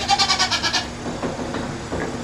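Goats in a milking setup with a pulse milking machine, bleating in a quick run of wavering cries at close range, followed by softer mechanical shuffling and faint bleats in the background.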